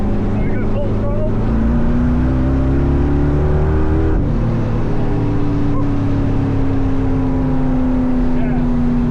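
A loud, close LS V8 swapped into a Firebird roars at full throttle, the engine note climbing steadily and then holding high with a brief shift dip, while a voice talks underneath.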